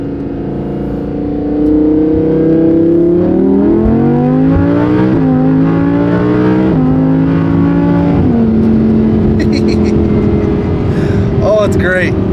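Supercar engine with an aftermarket exhaust, loud and close as it rises and falls through the gears, with a few sharp crackling pops near the end.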